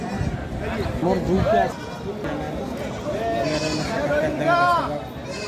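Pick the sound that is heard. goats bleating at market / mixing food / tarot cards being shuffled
goats bleating at market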